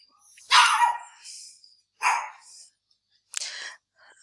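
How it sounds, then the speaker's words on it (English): Dogs bark in three separate bursts spread over a few seconds, fairly close and loud, with short quiet gaps between them and no talking over them. "I apologize for the dogs barking."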